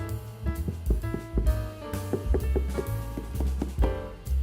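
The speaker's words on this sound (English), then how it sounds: "You bang on a guitar, you're gonna hear sounds like that." Knocks and taps on the body of an acoustic guitar ring out in a quick, uneven rhythm, each hit leaving a short resonant tone that rises and falls, close and fairly loud with no voices.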